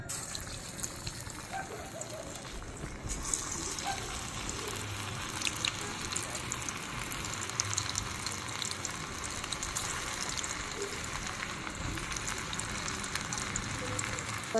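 Pakoras deep-fry in hot oil over a wood-fired stove, a steady loud bubbling sizzle that runs continuously and close up without a break.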